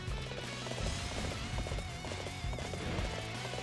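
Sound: horse hooves galloping, from video game Dynasty Warriors 8

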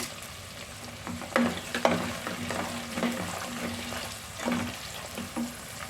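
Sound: garlic and dried red chillies frying in oil

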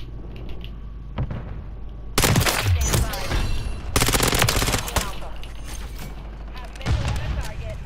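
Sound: ISO 9mm SMG gunfire in Modern Warfare 3 video game

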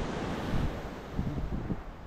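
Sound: wind blowing at a beach

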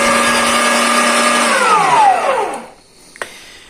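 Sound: meat grinder mincing rabbit meat

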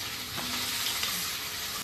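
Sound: potatoes frying in pan

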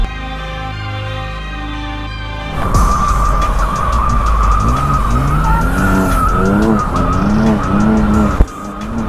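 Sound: BMW convertible drifting with tires skidding

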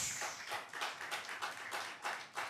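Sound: congregation applause in church

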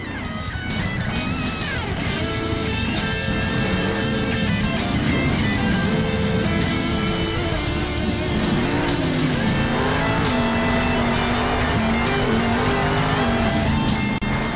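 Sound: monster truck doing donuts, video game Monster Jam Steel Titans

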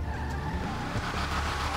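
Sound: Nightshade car accelerating in GTA Online video game

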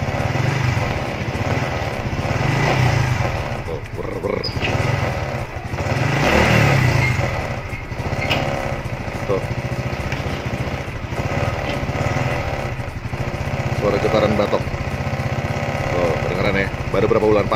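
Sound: Honda Supra X FI motorcycle headlight fairing rattling with engine running

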